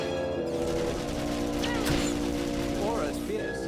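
Blaster gunfire in the Star Wars: The Old Republic game, a steady barrage of zapping shots with whooshing bolts and a few swooping effects, continuous and loud beneath a background game score.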